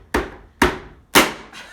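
A knife chops food on a cutting board in a home kitchen, three hard, sharp whacks spaced about half a second apart, close and loud with nothing else around them.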